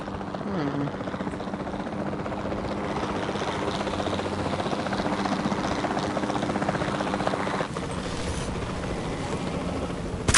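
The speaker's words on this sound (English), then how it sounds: "the sensible thing is to take a capture team helicopter. You can trank it from the air." Capture team helicopter in the Jurassic World Evolution 2 video game flying steadily throughout, a loud continuous rotor thrum and engine drone filling the whole clip, with game effects layered over it.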